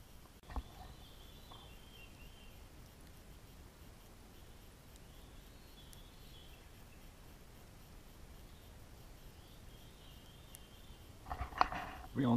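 Turkeys gobble outdoors at a spring bushcraft camp, a few faint, distant bursts over a quiet background, with a louder rustle near the end.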